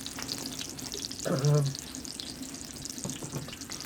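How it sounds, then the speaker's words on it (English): Onion and fish sizzle in coconut cream on an outdoor barbecue, a steady, soft frying hiss running under the whole scene with a brief metallic stir or scrape in the middle, while a person talks nearby. "I'm cooking on a barbecue."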